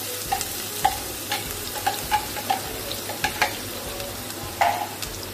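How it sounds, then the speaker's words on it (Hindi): Chopped onions sautéing in oil with asafoetida and turmeric, a soft close sizzle with light spoon taps and stirring scrapes recurring every half second or so. "इन्हें हम अच्छी तरह से मिक्स कर लेंगे ऑयल में, सॉटे कर लेंगे।"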